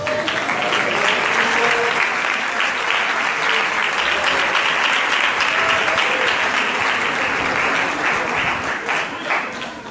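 A church congregation at a youth congress in Belo Horizonte claps hands in steady, loud, dense applause that continues throughout, with faint voices mixed in.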